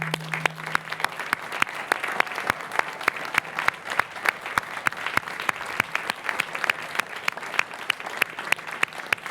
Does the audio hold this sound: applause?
yes